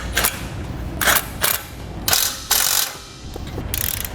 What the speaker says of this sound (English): we'll snug down all of our bolts evenly